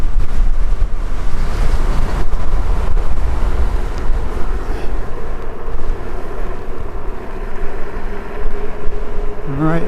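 Strong wind buffets a microphone outdoors on a high mountain route toward Newcombs Ranch, a loud, continuous rumbling roar that surges and eases throughout, with faint voices in the mix.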